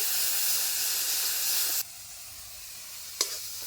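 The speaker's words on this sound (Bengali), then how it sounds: "একটু জল দিয়ে মশলাটাকে ভালো করে কষিয়ে নেব।" Spice paste of cumin, red chilli powder and salt frying with a little added water in a pan, a steady loud steaming hiss and sizzle that drops off abruptly partway, followed by a quieter simmer and one brief scrape.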